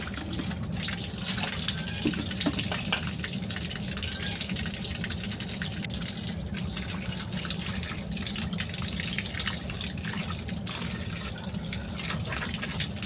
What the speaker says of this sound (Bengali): এখন মাছটা একটু ভালো করে ধুয়ে নিব।